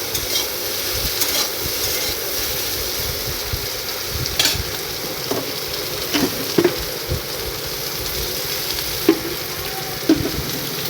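Eggplant pieces frying in hot oil in a pan for a Bengali fish curry, a steady close sizzle with occasional stirring scrapes and small clinks throughout, no voices.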